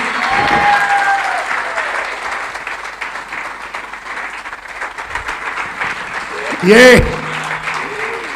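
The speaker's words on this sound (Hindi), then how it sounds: "तालियां हो जाएं चेक के लिए।" An audience applauds a cheque shown at a business gathering, a steady wash of clapping that carries on throughout, with a short loud burst near the end.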